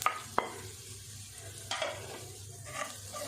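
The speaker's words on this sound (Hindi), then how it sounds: "इनको हल्का सा फ्राई कर लेते हैं, बस 2 मिनट।" Dry ground spices frying in hot oil for a wheat-flour aloo samosa filling, a soft low sizzle broken by a few sharp spoon clinks and stirring scrapes against the pan, quiet and close.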